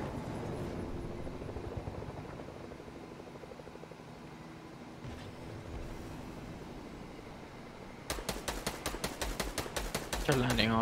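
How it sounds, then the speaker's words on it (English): A helicopter in the Fortnite video game drones steadily as it comes in to land, then its rotor chops turn into a loud, rapid pulsing close by over the final seconds. "I heard the helicopter and I immediately had PTSD."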